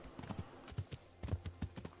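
Galloping horse hooves in the medieval video game Kingdom Come: Deliverance, a quick, uneven run of soft clip-clop beats, fairly close and alone.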